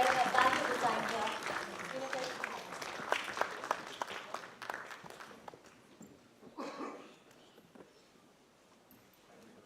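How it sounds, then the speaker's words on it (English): Applause from an audience honoring a visiting minister at a certificate course event, fairly faint and fading gradually over several seconds, with scattered claps and shuffling toward the end. "can we please give a huge round of applause to the Honorable Minister for sparing a valuable time here"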